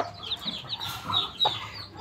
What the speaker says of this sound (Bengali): আর একটা মুরগি আছে